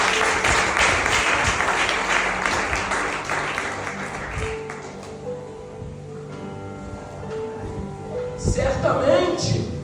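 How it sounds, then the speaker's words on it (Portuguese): A church congregation applauding, a dense burst of clapping that is loudest at first and fades over about four seconds, followed by a pastor speaking over a quiet room. "Aí eu gostaria de uma salva de palmas para ele."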